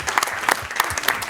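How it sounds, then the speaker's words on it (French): Audience applause at a round-table conference, a dense burst of clapping from a seated crowd, steady and fairly loud throughout with no talking over it. "je crois qu'on applaudit ça"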